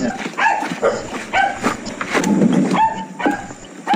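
A dog whimpers and gives short, yippy barks in repeated bursts, loud and close by, with brief pauses between the cries.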